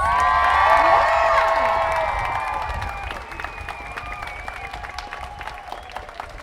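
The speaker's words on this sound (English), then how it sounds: "Can we get another round of applause?" A crowd at a student climate strike applauds and cheers, with dense clapping and whoops loudest at the start, then thinning into scattered claps and shouts as the noise fades.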